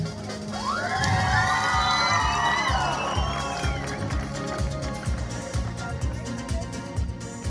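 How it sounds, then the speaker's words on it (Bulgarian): An audience at a Bulgarian dance festival final cheers and applauds, a loud rush of high shouts and whoops swelling early and then settling into sustained clapping and crowd noise. "А как нам мы делаем аплодисменты? Чтоб мы себе аплодировали."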